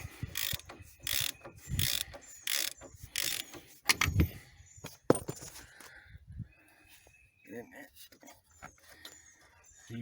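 Ratcheting wrench working loose an 18 mm strut clamp bolt on a Ford Focus during a passenger-side CV axle job, giving repeated close clicking bursts amid clanks and some brief talk.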